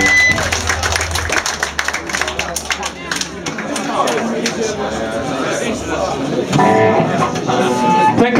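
Audience clapping and cheering at a late-night punk concert in Łódź, a dense crowd noise with scattered claps that swells toward the end, mixed with shouting and a voice over the top.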